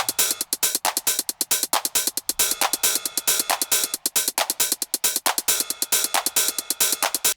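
A tight, rapid hi-hat pattern from a drum machine ticks steadily in a techno groove, crisp and bright, playing alone with no voices.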